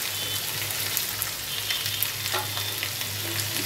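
Spinach leaves sautéing with browned onions in a pan, a continuous bright sizzle with soft stirring rustles over a low steady hum, close, no talking.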